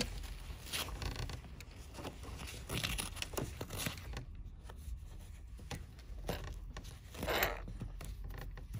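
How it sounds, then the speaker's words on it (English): Tear-away stabilizer peeled off the back of an embroidered butterfly, giving a run of close, dry crinkling and tearing rips in short bursts, with one louder pull near the end. "But first I want to peel off the stabilizer."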